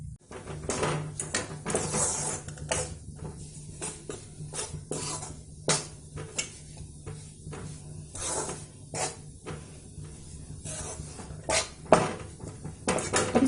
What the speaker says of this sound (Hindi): तो हल्के हाथ से इसे भून लेते हैं।